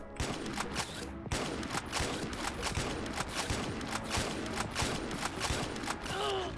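Shots fired in the online shooter XSHOT with a Snow QBU sniper rifle, heard as a dense string of sharp cracks amid other game gunfire, fairly loud and steady.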